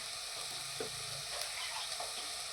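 Ginger, garlic and green chilli paste dropped into onions frying in oil for pav bhaji, giving a steady close sizzle with faint stirring scrapes and no voices.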